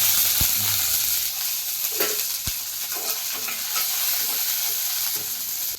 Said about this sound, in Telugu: ముందుగా ప్యాన్లో చిన్న హాఫ్ టేబుల్ స్పూన్ ఆయిల్ వేసుకొని అందులో పచ్చిమిర్చి వేసుకున్నాము